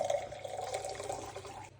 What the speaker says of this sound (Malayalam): നമ്മുടെ ഗ്ലാസ് വെച്ചു നമ്മുടെ അരിപ്പ വെച്ചു അരിപ്പയിലേക്ക് ദേ ഇത് കറക്റ്റായിട്ട് അങ്ങ് ഒഴിക്കുക